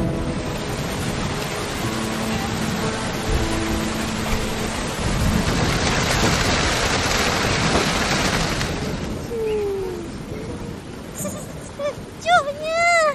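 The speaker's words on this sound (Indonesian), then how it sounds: "Bilalah hujan nak berhenti." Heavy rain pours steadily through most of the scene in an animated children's show, a dense continuous wash that eases off near the end as children's voices and music rise over it.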